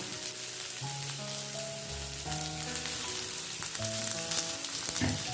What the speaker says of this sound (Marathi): थोडंसं तेल टाकून आपण हा भाजून घेऊया.